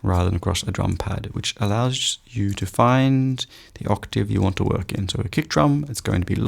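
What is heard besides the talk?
No distinct noise like a dog, phone or traffic.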